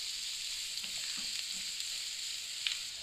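Chili and vegetables frying in a pan for white sauce pasta, a steady bright sizzle held at moderate level with a few faint stirring touches and no talking.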